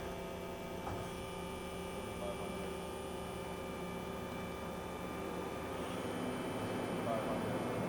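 A Mori Seiki 4-axis horizontal machining center with its spindle spinning up to 2,500 RPM, a steady tonal whine over a constant machine hum, faint and even throughout, with a voice talking partway through.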